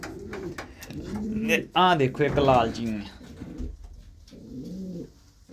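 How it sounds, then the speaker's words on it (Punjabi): Pigeons coo in low throaty warbles, one burst loud and close, while someone talks over and between the calls. "ਬਹੁਤ ਹੀ ਸ਼ਾਨਦਾਰ ਲਾਜਵਾਬ ਕਬੂਤਰ ਨੇ"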